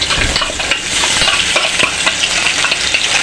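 Whole cumin, chopped tomato and spice paste fry loudly in a pan for a soybean curry, a dense, continuous sizzle and crackle heard close up with no voices.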